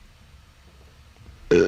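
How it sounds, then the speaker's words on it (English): After a quiet stretch comes one short, loud, close burp at the very end. "I heard your burp, and I raised you 1 burp."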